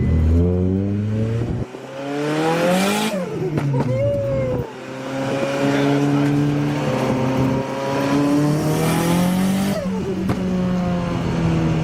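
Nissan S15 drift car engine on a test drive, loud and close, holding steady revs with repeated rising and falling pulls, brief lifts and shifts between bursts of throttle.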